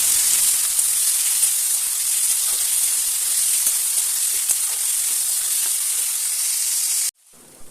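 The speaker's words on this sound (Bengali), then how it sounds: "এবার যে সবজিগুলো কেটে রেখেছিলাম সেটা এবারে তেলের উপর দিয়ে দেবো।" Chopped vegetables lightly frying in hot oil in a home kitchen pan while a spicy semolina halwa is being made, giving a steady loud sizzle with small crackles that runs for about seven seconds, then cuts off abruptly.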